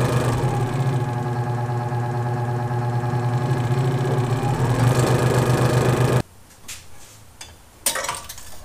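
A Central Electric scroll saw from Harbor Freight cuts 3/4 inch wood with a steady, loud mechanical buzz for about six seconds, then stops abruptly, leaving a few faint clatters and thumps.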